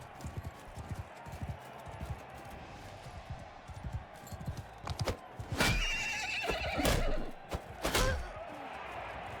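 Horse neighs and hoofbeats from Mount & Blade II: Bannerlord, with a loud whinny rising out of busy battle ambience midway, followed by another sharp neigh near the end.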